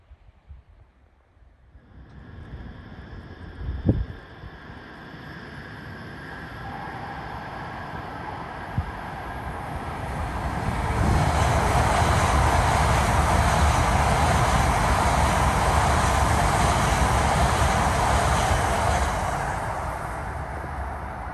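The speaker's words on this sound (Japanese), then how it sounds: "新幹線がね、通過する時間に合わせてちょっと戻ってきました。ちょっと短かったですね、新幹線ね。" A Shinkansen bullet train emerging from the Seikan Tunnel in Aomori, a distant rush that swells into a loud, steady roar of rushing air and rail noise, then slowly fades. Wind buffets the microphone throughout.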